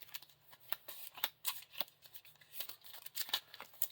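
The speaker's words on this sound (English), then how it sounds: "And then we shuffle the 4 locations back into the encounter deck." Location cards from a Lord of the Rings card game shuffled back into the encounter deck, a quick run of crisp papery riffles and slaps, close but quiet, with no talking.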